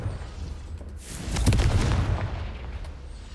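A Confringo fire spell bursts in the game Hogwarts Legacy, a single heavy whooshing boom that swells and then trails off into a rumbling tail.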